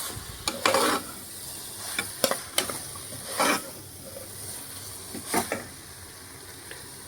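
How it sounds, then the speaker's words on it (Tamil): Meal maker biryani masala is stirred in a frying pan, with scattered scraping strokes and spoon knocks over a faint sizzle, close, with quiet gaps between strokes and no voices. "நல்லா ஒரு 2 மினிட்ஸ் நல்லாத்தையும் மசாலாவோட போட்டு மிங்கிள் பண்ணி கலரலாம்"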